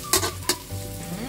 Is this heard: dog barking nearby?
no